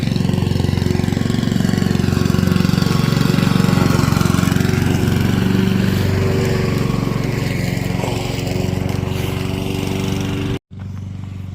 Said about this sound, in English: I just stopped the recording just because of the noise of the lawnmower